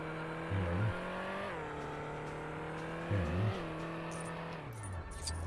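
Car engine in the Lego The Incredibles video game, a steady droning hum with the pitch sliding up and down as it accelerates and eases off, two brief revving bursts standing out, continuous and close.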